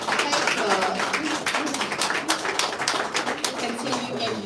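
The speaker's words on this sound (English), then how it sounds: "Another round of applause for our K Club." A round of applause at a dental honor society chapter ceremony, moderately loud clapping from a seated audience that carries evenly throughout, with some voices faintly mixed in.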